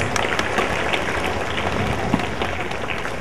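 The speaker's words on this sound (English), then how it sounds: "Let's give him a loud round of applause." A school day audience gives a steady round of applause, a dense, even wash of many hands clapping at a moderate distance that holds throughout without a break.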